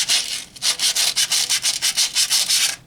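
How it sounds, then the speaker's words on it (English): Sandpaper rubbed by hand over a rusty part of a 1952 Ferguson TO30 tractor during a rebuild, a quick steady series of close, loud scratchy strokes in an even rhythm with no talking. "there's a little bit of rust that got on the top of this. And it's just some sandpaper that I grabbed"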